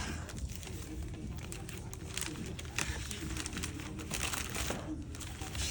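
Crinkling plastic bag rustles continuously and close by, with brief sharper crackles scattered through, over a low background hum.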